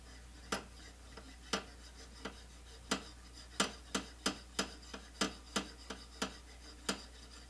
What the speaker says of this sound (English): we're just going to run this down the barrel and see if the end cap of this suppressor rubs that paint off.